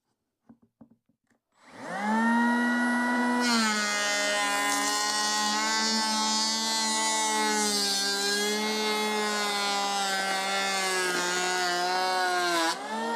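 Einhell TE-PL 18/82 Li cordless planer cutting wood at 1 mm depth: after a few faint clicks the motor spins up into a loud, steady whining drone that holds for about eleven seconds, pitch shifting slightly under load.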